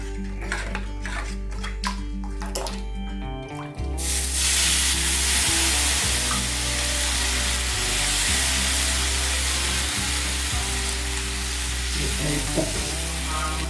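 Rava dosa batter poured onto a hot pan bursts into a loud, steady sizzle after a few seconds of quieter kitchen clatter, continuing with occasional scrapes and taps until the end.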